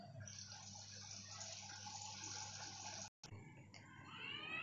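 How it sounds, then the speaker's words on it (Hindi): A Bosch front-load washing machine fills with water while soaking a blanket, giving a steady close hiss of running water that breaks off for a moment and returns. "अब मशीन अभी से सोक कर रहा है, तो ये 5 to 10 minutes तक अब इसमें सोक करके ये रखेगा, उसके बाद वॉश करेगा।"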